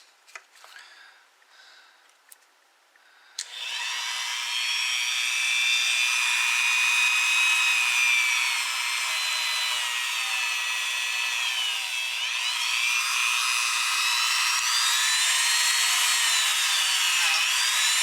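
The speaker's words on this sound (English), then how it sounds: "I'm going to use a Dremel tool and some metal polishing compound." Dremel rotary tool running steadily with metal polishing compound on a cloth to polish guitar frets, a loud continuous high whine with shifting pitch that starts abruptly after a few seconds of quiet handling noises.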